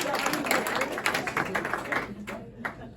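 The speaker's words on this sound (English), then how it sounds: "you could clap on that" A comedy club audience claps for a few seconds, with scattered, uneven hand claps and crowd noise and no clear voice on top.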